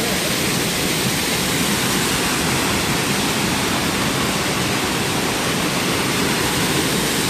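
Waterfall on the Coomera circuit at Binna Burra, a close, loud, unbroken roar of falling water with no breaks or voices.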